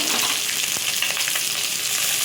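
Black and white cumin seeds sizzle steadily in hot oil in a Bengali kitchen, a dense continuous hiss with faint crackles, close and unbroken, with no voices.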